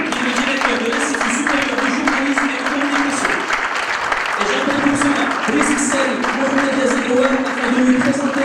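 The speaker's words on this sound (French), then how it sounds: "Je voudrais s'il vous plaît un tollé d'applaudissements pour son fils, Ahmed Talal" Audience applause at a conference on political discourse in Morocco, steady clapping sustained over several seconds with voices mixed in.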